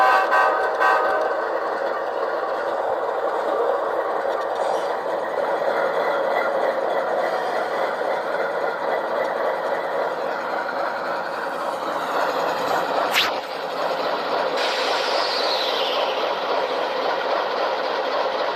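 An HO scale MTH Dash 9 model locomotive fitted with LokSound runs at slow speed, giving a steady, loud diesel engine drone that holds alone throughout with a brief clank near the end.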